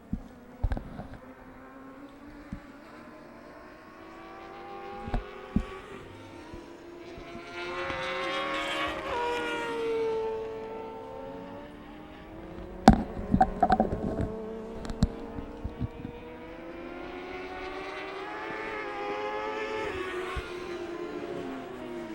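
Race cars roaring past during a masters motor race, led by the number 45 car, with rising and falling engine notes of several machines sweeping by at mid distance and a loud burst near the middle.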